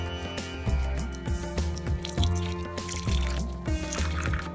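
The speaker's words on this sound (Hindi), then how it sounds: "इसमें आलू डाल देती हूँ और स्क्वीज करके आलू में जितना पानी है निकालना है" Water being squeezed by hand out of grated potatoes held in a cheesecloth, giving wet squishing and steady dripping and trickling, moderately close, over a faint steady hum.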